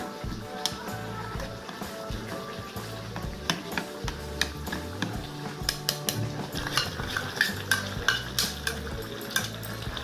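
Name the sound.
stirring tomato ketchup and sauce into water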